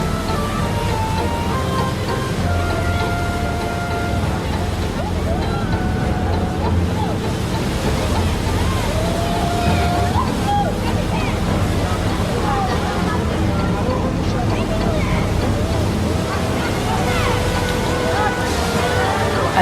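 Boat engines running in reverse on a working vessel docking, a steady deep rumble with churning water filling the whole stretch, continuous and fairly loud, with faint babble of voices in the background.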